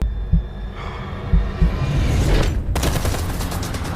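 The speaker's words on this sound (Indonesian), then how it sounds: "Lalu Tucker pun menembak dari kejauhan." Distant gunfire erupts in a crime film shootout, a few sharp thuds followed by a dense, sustained rattle of shots that fills the scene with no voices.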